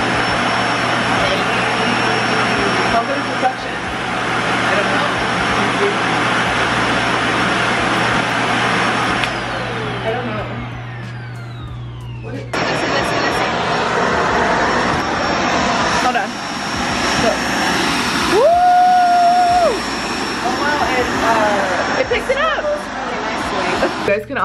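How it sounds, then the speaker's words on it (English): A newly unboxed household vacuum cleaner runs steadily with a loud broadband whir through most of the stretch, briefly cut off then restarting, while people talk over it. "we are freaking out over this vacuum."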